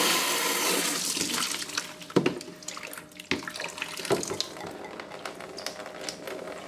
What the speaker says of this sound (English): take your bucket as a precaution and open up both valves again